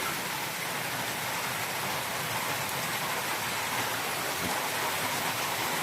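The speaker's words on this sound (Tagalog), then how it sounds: "Ulan eh." Steady rain falls heavily on a poultry farm, a dense, even hiss of drops on surfaces continuing without pause.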